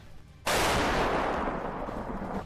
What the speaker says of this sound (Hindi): रूसी सेना ने खार्किव में जबरदस्त गोलीबारी की।